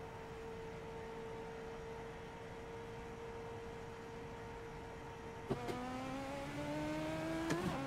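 A race car in a racing video game pulls away from a second gear start, a steady engine drone that steps up with gear shifts and rising revs near the end, loud and without talk.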